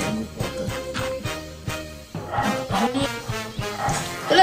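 A pet dog barks repeatedly in a home, the yaps mixed into busy background sound with music-like tones throughout.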